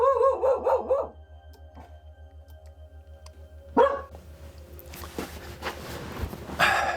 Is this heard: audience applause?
no